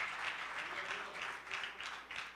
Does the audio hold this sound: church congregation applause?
yes